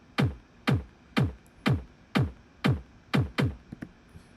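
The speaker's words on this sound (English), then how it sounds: "So we've got our drum loop" Kick drum loop in Ableton, eight deep thumps evenly spaced at a steady pulse, close and clear with nothing else around them.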